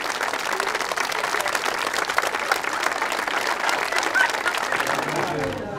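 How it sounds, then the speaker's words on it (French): At a large parents' gathering in Amnéville, a crowd applauds continuously, a dense, steady wash of many hands clapping at even loudness from start to finish. "Pour réaliser ce cliché, le mot d'ordre était « Applaudissez »."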